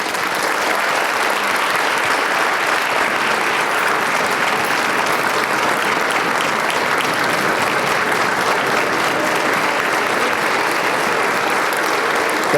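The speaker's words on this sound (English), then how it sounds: "he deserves a bigger round of applause" Sustained applause from an audience at a regular board meeting, steady and dense clapping filling the room for several seconds without a break.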